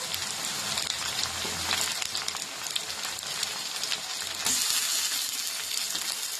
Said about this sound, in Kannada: ಟಮಾಟೆ ಹಣ್ಣು ಫ್ರೈ ಆಗಲಿ.